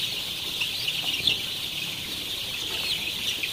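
Chickens clucking and chirping softly over a steady background hiss, several birds nearby with scattered short calls.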